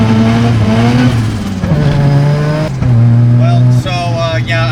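A Mazda RX-7 accelerates in first gear at half throttle on a wet road, its loud rotary engine note rising in steady sweeps close to the microphone, with a brief drop between pulls and a voice speaking over it.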